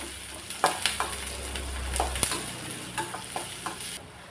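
Steady sizzling of onion and garlic in a hot pan with repeated scraping clinks of a spoon stirring, close and continuous, then the sizzle briefly drops away at the end.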